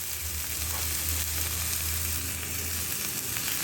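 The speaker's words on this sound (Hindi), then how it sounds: "और साथ के साथ मैं यहाँ डाल रही हूँ करी पत्ता, जो कि मैंने बारीक बारीक काट लिया था।" Chopped onion and finely cut curry leaves sizzle steadily in hot oil in a frying pan, a dense, even frying hiss with no voices.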